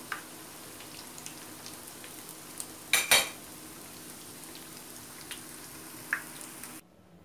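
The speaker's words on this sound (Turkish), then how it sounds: "Biraz daha kızarsınlar." Pişi dough filled with chicken fries in hot oil over a high flame, a faint steady sizzle with a few soft utensil clinks and one louder scrape partway through.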